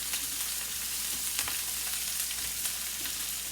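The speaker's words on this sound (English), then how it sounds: "So like I said, I just want to saute this quickly." Chicken sautéing in very hot oil in a pan for a budget chicken pasta dish, a steady close sizzle with soft crackles and occasional stirring scrapes, no talking.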